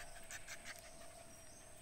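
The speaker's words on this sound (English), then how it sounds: "I will wait until these three dogs will go away." Dogs panting close by in a steady, rapid breathy rhythm, with one of a group of three dogs near a house, set against a constant background hum and no talk.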